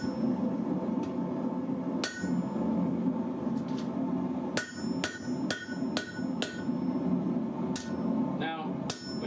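Hot metal being hammered on an anvil at a forge: sharp ringing strikes, sparse at first then in quicker clusters, over a low background roar of the fire, with some quiet talking.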